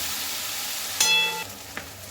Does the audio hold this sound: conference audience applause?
no